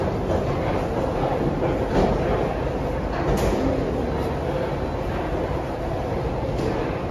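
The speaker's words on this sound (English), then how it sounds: "we are taking the Lille Metro for the first time" Steady loud rumble and rattle of a Lille Metro train while riding inside the car, continuous rolling noise with faint clicks, no talking.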